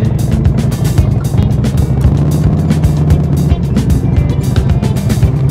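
A motorcycle ridden slowly through a lean with the rear brake feathered gives a loud, close, pulsing engine note with rough low throbbing and steady wind buffeting throughout.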